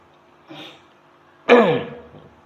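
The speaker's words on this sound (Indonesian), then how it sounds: "Ada gangguan batuk, ada gangguan kesehatan." Throat clearing during a religious talk, a short soft rasp followed by a louder, harsher clearing, both close and alone.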